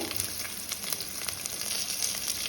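Crushed garlic cloves frying in oil in a pan give a steady, fairly quiet crackling sizzle with small popping bursts throughout, heard alone.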